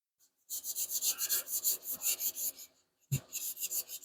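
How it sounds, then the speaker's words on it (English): Sandpaper wet-sands the bodywork of a 1975 Hemi Plymouth Duster in rapid back-and-forth strokes, with a rhythmic rasping run of about a dozen strokes, a brief pause, then a second run, close and clear. "We'll wet down the sandpaper good and heavy, and we're just gonna go."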